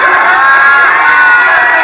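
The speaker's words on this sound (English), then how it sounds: "Democrats cheering on fact checks by the debate moderators." Democrats at a debate watch party in a Kendall sports bar erupt in loud, sustained cheering and whooping, a dense crowd roar throughout.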